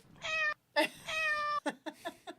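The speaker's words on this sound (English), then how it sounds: "Does he get the meow?" A cat meows several times in close succession, clear and fairly near, with a few short chirpy calls at the end.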